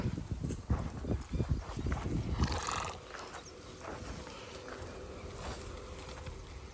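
Horse hooves clip-clopping during a riding lesson outdoors, a quick run of moderately loud thuds for the first few seconds, then fading into quieter background noise.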